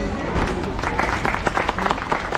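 Brief burst of audience clapping, dense and steady, from a crowd nearby at an outdoor street play.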